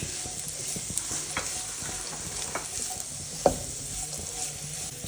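Cabbage and carrot stir-fry in a hot pan for chicken noodles, a steady sizzle overlaid with quick clattering scrapes and taps of a spatula against the pan, close up and without speech.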